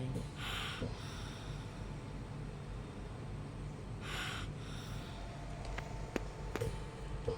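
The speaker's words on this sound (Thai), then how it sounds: "เนี่ยค่ะเสียงลมหายใจ" An unconscious elderly woman lying still draws slow, labored breaths. Two soft, airy breaths come roughly three and a half seconds apart over a steady low room hum, with a few faint clicks near the end.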